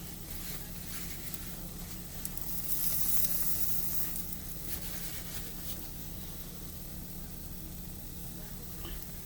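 A chaffle sizzles steadily as it cooks in a hot chaffle maker, a close, continuous frying hiss with a brief louder burst partway through, with faint background hum and low voices.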